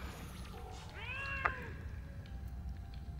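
A cat meows twice in quick succession in a video game, a faint, rising-and-falling cry over low background hum, followed by a soft click and a brief sharp tap at the end.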